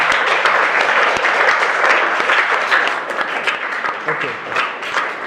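Studio audience applause for a contestant on a quiz game show, a dense continuous clapping that is loud and close and holds steady for several seconds before easing slightly, with no speech over it.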